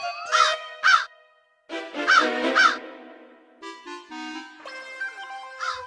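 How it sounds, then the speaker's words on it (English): A crow caws in two bursts of paired harsh calls, loud and close, followed by a softer stretch of chattering bird sounds with no talking. "See how this crow is cawing, Your Majesty."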